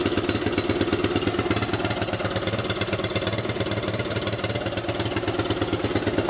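Suzuki LT 185 ATV engine idling steadily up close, a loud, continuous low-pitched rumble with a fast, even pulsing throb throughout.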